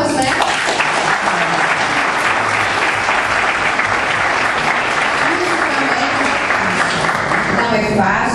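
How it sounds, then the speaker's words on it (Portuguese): Loud, sustained audience applause at a Brazilian oral health event, a dense, even wash of clapping that holds steady throughout, with faint voices mixed in underneath. "Palmas, né?"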